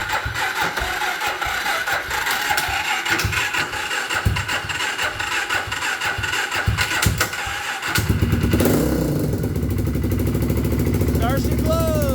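A sports quad engine labors through a rough, sputtering start, then catches and settles into a loud, steady idle, with people talking over it nearby.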